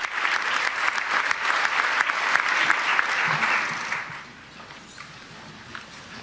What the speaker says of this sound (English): you can see they are standing and applauding as she takes the podium